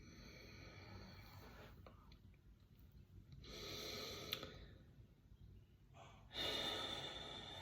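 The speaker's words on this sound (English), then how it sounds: "so I'm going to try to breathe out." A slow, breathy exhale during a calm meditative talk, heard as two soft rushes of air that swell and fade close to the microphone, with a quiet hiss between them and no speech.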